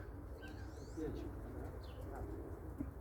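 Racing pigeons coo softly around a loft in Elbląg, with low, intermittent calls, a few faint chirps and light background noise.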